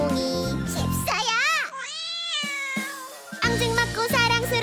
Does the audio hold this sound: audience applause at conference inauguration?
no